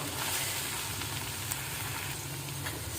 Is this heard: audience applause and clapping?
no